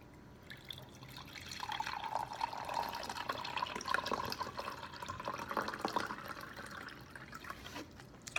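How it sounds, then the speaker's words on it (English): Water poured from a container into a glass during an instant ice experiment, a steady trickling splash that holds for several seconds, with dripping, filling sounds and no talk over it. "I'm going to pour this water into this glass."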